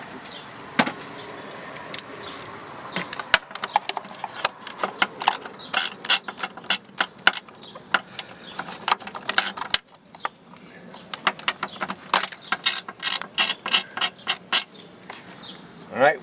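Ratchet clicks and metallic handling while a 7mm socket ratchet loosens a bolt in the engine bay of a 2010 Nissan Sentra during spark plug work, a steady run of close rapid clicking bursts with some faint talk mixed in.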